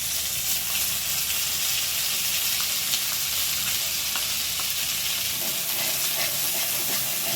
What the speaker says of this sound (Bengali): এইবারে ওই পাতা বাটাটা দিয়ে দিল তেলের মধ্যে।